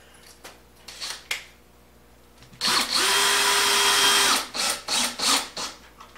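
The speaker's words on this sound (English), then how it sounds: "And I'm just going to attach it with some screws." A power drill drives screws into wood for a farmhouse X-leg entry table: a few short bursts, then a sustained close whirring run of about two seconds, followed by several brief pulses as the screws are snugged in.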